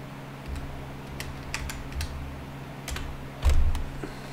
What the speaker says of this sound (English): what you're going to type in is Polkadot